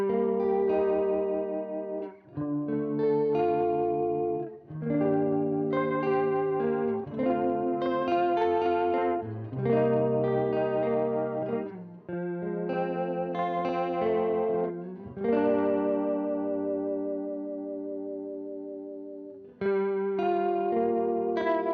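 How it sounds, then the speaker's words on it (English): Electric guitar played through a delay pedal with its depth control adding chorus or vibrato modulation, strummed chords and melodic lines with wavering, echoing tails, loud and continuous with no talking. "So it's kind of like whether you want that chorus or vibrato sound."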